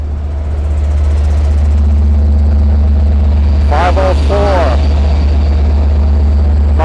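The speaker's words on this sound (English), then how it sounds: "Here comes our engine and trail." A Long Island Rail Road locomotive engine approaches at Westhampton, rumbling steadily with a deep low hum, then a person briefly speaks partway through over the constant engine drone.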